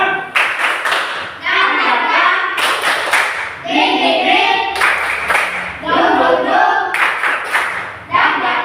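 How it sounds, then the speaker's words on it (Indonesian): A class of children claps a rhythmic spirit clap together in bursts, with loud, patterned hand claps close by and voices mixed in among the claps. "Tepuk semangat."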